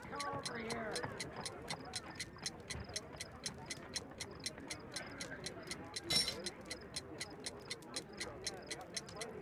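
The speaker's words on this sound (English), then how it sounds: "A fancy ticking homemade gift from a secret admirer." Steady, even ticking of a time bomb built from an alarm clock, close and crisp, running throughout amid the game's ambient sounds, with a brief louder clank near the middle.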